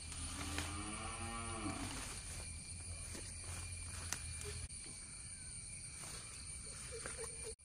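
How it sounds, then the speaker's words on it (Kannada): A tethered cow lowing at a farm grazing spot, one drawn-out moo near and loud, then quieter low rumbling noise without further calls. "ಇವಾಗ ಮಿಂಟುವನ್ನು ಕೊಂಡೋದಕ್ಕೆ ಅದು ಕೂಗ್ತಾ ಇದೆ"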